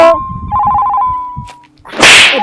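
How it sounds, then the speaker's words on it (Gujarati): A mobile phone ringtone plays a steady electronic tone with a pulsing warble, loud and close, breaking off before a sharp burst of noise at the end. "આ રિંગ કોના ફોનમાં વાગે છે?"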